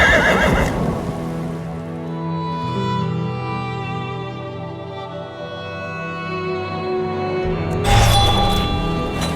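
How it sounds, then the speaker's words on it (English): Horses in Elder Scrolls Online whinny near the start and again toward the end, long drawn neighs with hoof clatter and soft ambient rain between them, no talking. "I'll secure the horses while you go on ahead."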